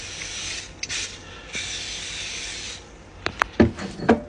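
Cooking spray hisses onto a waffle maker in a couple of steady bursts of a second or so each, followed by a few sharp clicks and knocks.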